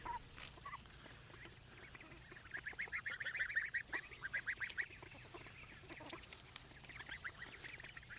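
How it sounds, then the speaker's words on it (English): A month-old goose on grass, raised alongside ducks, gives a run of rapid, nasal honks close by, loudest in the middle, then tapers into softer calls. "Francisco Goose, what are you yelling at me for?"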